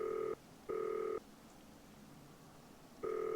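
Touch-tone telephone dialing in the Nancy Drew: Danger By Design game: two clear dual-tone beeps followed by a pause and a third beep starting, loud and even against a quiet background with no talking.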